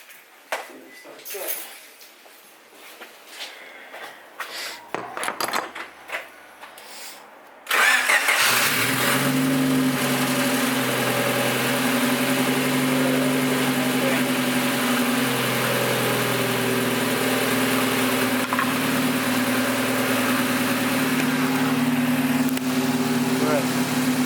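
A car engine cranks and catches, then settles into a steady, loud idle that runs on for a long stretch after some quieter handling noises.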